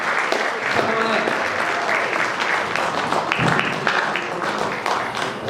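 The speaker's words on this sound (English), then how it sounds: "I hope you can clap that" Audience applause at a basketball hall of fame ceremony, steady dense clapping throughout with some voices mixed in among the crowd.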